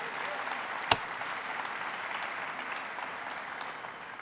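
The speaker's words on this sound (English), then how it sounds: "Let's give him a round of applause." A crowd at a state Democratic party convention applauds, a broad distant roar of clapping held at a low, even level, with one sharp close clap standing out near the start.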